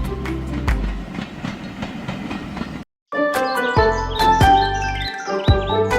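A cartoon toy train rolls along rails with rhythmic clicking and clacking, set against bright musical tones. It breaks off for a brief silent moment, then resumes with lively chiming notes.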